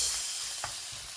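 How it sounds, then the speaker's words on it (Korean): Seasoned meat stir-frying in an oiled pan on a gas stove, giving a steady close sizzle with a brief scrape of stirring partway through. "양념에 든 고기를 볶아줄 거예요."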